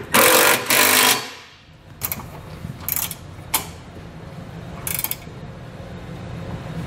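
Trailer hitch bolts being snugged down on a 2020 Buick Envision with a ratchet: two loud bursts of fast clicking ratcheting up front, then several shorter ratchet strokes at intervals, close by, with no talk.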